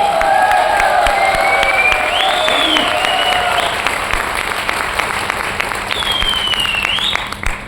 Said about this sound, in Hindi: एक जोरदार तालियां सुनिए अपने लिए।